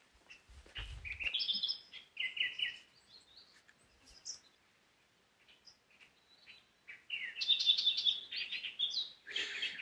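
Birds chirping and trilling in a rocky gorge beside a river in Karijini, bursts of bright high calls with quiet pauses between them, fairly soft and distant.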